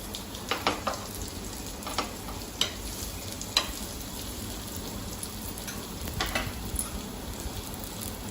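Oats cutlets pan-roast in oil until crisp, giving a steady soft sizzle with scattered crackles and pops across the whole stretch, close by and with no talking.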